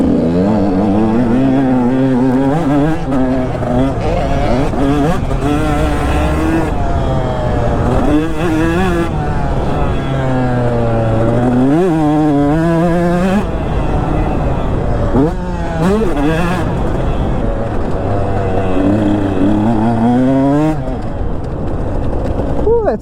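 A two-stroke Kawasaki KX85 dirt bike revs hard through wooded trails, its engine pitch rising and falling repeatedly with each throttle blip and gear change, loud and close, with voices heard at times.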